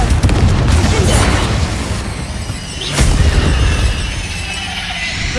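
A booming Confringo spell blast in the Hogwarts Legacy video game during a fight with spiders, a loud sharp explosion over dense rumbling game audio and effects.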